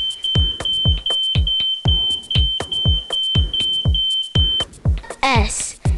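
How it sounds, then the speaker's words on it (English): A household smoke detector sounds a steady high-pitched alarm tone, overlaid by repeated loud percussive hits in a regular rhythm, before the alarm cuts out and a brief electronic whoop of rising tones ends the sequence. "when you hear your smoke detector go off"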